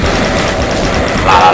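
Rapid gunfire from the classic first-person shooter Doom, a dense continuous burst of shots loud and close, with a brief swell near the end.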